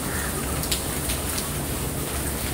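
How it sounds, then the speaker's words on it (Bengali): Heavy monsoon rain pours down outside a hotel balcony in Goa, a dense, even hiss of falling water that stays constant throughout, with no voices over it. "ওয়াও, বৃষ্টি হচ্ছে।"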